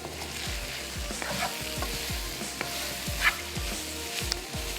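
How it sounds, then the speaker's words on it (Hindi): Minced meat stuffing for capsicum being mixed in a pan with fresh coriander and chopped green chillies, a regular scraping stir about twice a second over a low sizzle, close and steady, with no voices. "अब हम इसको कर लेते हैं अच्छा सा मिक्स।"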